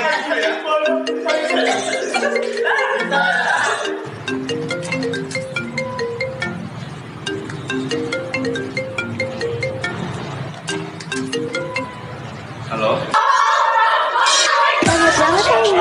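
A mobile phone ringtone plays a loud, repeating electronic melody of bright tones for most of the clip, with a burst of louder mixed sound near the end.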